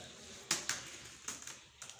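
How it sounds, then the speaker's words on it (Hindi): A laptop keyboard being typed on gives a few faint, sharp key clicks in an irregular rhythm, each tap quick and close, in a quiet room with no talking. "टाइपिंग सीख रहा है क्या?"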